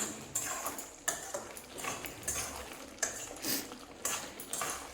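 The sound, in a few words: spoon stirring coriander into kadai chicken in a wok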